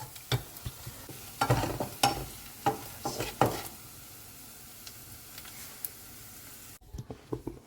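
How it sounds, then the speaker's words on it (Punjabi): Hot oil crackles and sizzles with a tempering while a spoon clinks and stirs in the pan, with scattered sharp pops over a soft frying hiss. "ਤੜਕਾ ਲੱਗ ਰਿਹਾ ਆਪਣਾ"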